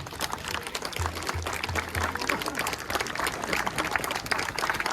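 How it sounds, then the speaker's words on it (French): Audience at a baptism celebration applauds in a steady, moderately loud patter of clapping that carries on for several seconds, with faint voices mixed in. "je vous demande de tous les applaudir"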